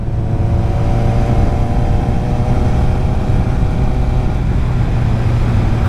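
A Kawasaki ZX7R sport motorcycle on new tires carries a loud, steady engine drone through a corner, with a sustained mechanical hum and rumble under rushing wind and no speech.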